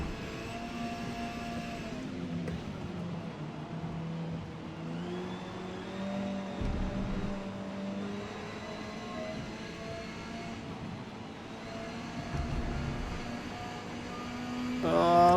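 An MG touring car races in wet conditions in Forza Motorsport, its engine droning and rising through the gears as the pitch climbs and drops over several shifts, with other cars faintly nearby and a sharp rev at the end.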